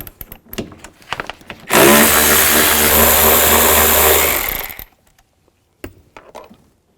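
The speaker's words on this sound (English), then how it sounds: "Just use a 10mm socket and a ratchet" A ratchet with a 10mm socket works the mirror nuts loose on a 2000-2006 Chevy Tahoe, a loud, steady buzzing rattle lasting about three seconds, framed by scattered light clicks and handling taps.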